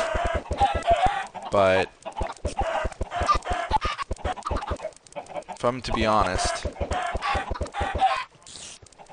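Chickens clucking in the Minecraft video game, short repeated clucks and squawks running steadily throughout, with someone talking over them much of the time.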